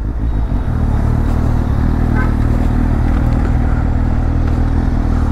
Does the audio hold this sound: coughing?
no